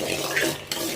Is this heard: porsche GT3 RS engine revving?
no